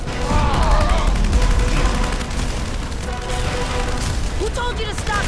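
Sustained gunfire in the video game Terminator Salvation, a dense fusillade with booming impacts running throughout, loud, under intermittent shouting voices.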